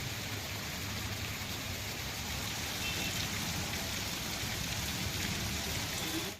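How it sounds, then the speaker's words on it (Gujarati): Heavy rain pours down steadily in a continuous, dense hiss with no letup, alone and without voices. "સારા વરસાદથી રસ્તા ઉપર પાણી વહેતા થયા."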